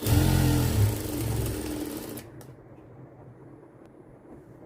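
A sewing machine stitches the inner lining fabric of a blouse, running loud and steady for about two seconds before stopping, leaving a quiet room tone behind.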